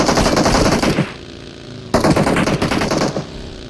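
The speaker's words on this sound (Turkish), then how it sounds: "Lan arkadan da bana sıkıyor" Rapid automatic gunfire rattles in PUBG Mobile, two close, loud bursts of machine-gun fire separated by a short pause of under a second.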